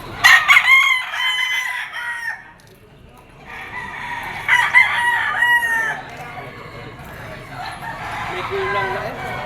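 Roosters and fowl crow and cluck repeatedly at a busy livestock market in Padre Garcia, Batangas, with several loud crows rising over a crowded background din.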